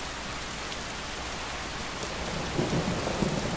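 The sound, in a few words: heavy rain and thunder in the video game Skyrim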